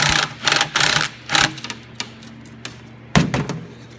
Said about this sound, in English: Just loosen that 7mm.